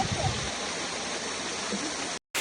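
A small waterfall pours continuously, a dense, even rushing of water close by that cuts off abruptly near the end.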